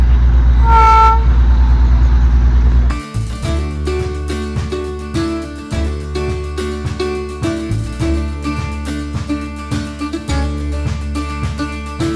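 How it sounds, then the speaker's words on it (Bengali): A train departs in rainy Darjeeling: a loud horn blast opens, then a steady rhythmic clatter of wheels over rail joints continues close by, no talk. "এখানে ট্রেনগুলোও ছাড়ছে এরকম ট্রেনগুলো যাচ্ছে"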